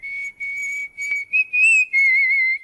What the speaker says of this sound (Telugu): ఏ విజిల్ అంత బాగుందా?